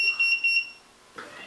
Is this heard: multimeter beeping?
yes